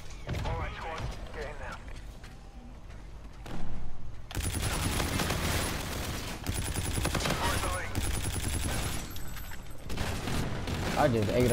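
Gunfire from a first-person shooter match in Call of Duty, dense bursts of shots crackling loudly and continuously after a quieter opening with game sounds and voice chatter.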